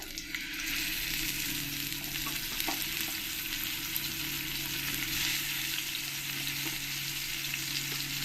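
Pomfret fish coated in salt and turmeric frying in hot oil, a dense, steady sizzle with faint crackles and occasional soft knocks, close and continuous without talk.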